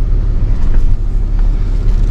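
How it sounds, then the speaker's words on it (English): A heavy truck's big old Cummins diesel engine runs steadily, a loud, continuous low rumble with no breaks or spoken voices, while the truck is stuck in soft mud on a slope. "those trucks are heavy. That's a big old Cummins."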